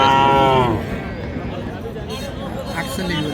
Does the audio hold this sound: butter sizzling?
no